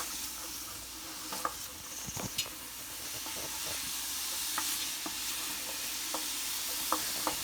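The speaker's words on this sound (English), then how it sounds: "you see it start to sizzle" Lentil soup sizzles steadily in a pot with a constant hiss, broken by occasional sharp pops and the scrape of stirring, no voices.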